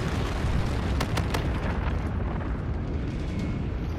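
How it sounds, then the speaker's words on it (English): A bombardment killstreak in Call of Duty: Infinite Warfare, a dense, continuous roar of explosions with a few sharper cracks early on, loud and sustained throughout. "let me hit my bombardment"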